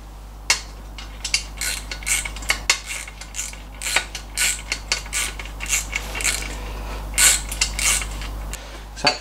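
Metallic clicking and ratcheting of a long socket wrench working the gearbox crossmember mount bolts on an MGB, a close, irregular series of clanks and creaks in a workshop, no talk.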